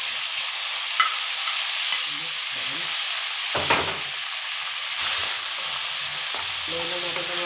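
Garlic and onion sizzle and hiss steadily in hot oil, with a few stirring clinks and scrapes and brief bursts of louder frying, heard up close with no talk.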